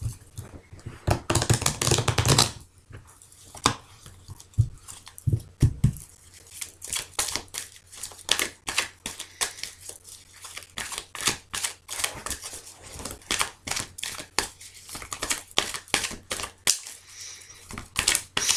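Playing cards shuffled by hand for a weekend tarot-style reading, a quick riffle burst near the start followed by a long run of sharp, close card snaps and flicks in irregular rhythm, with no talking.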